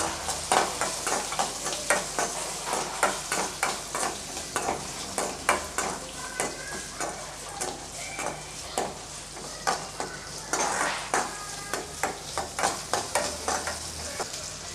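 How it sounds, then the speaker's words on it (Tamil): Small onions sizzle in hot oil with popped mustard and fenugreek seeds while being stirred for buttermilk curry, with a steady frying hiss broken by repeated scraping stir strokes throughout. "இதில் கட் பண்ணி வச்சு சின்ன வெங்காயத்தை சேர்த்துக்கலாம் நல்லா வதக்கி விட்டுக்கலாம்"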